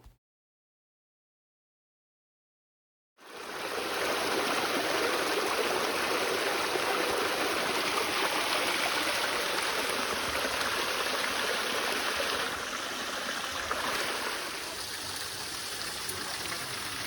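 A waterfall in India rushes in a dense, continuous roar that starts abruptly after a few seconds of silence, then holds steady and loud with no voices.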